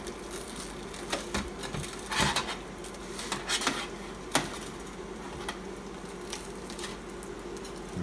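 A crispy breaded Japanese-style chicken cutlet being cut open, with scattered crunchy cracks and knife-on-plate clinks over a low steady hum, no talking.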